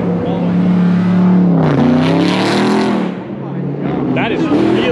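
A loud Porsche GT3 sports car with mid-pipe exhaust revs hard nearby, its raspy roar rising and falling, while people talk over it.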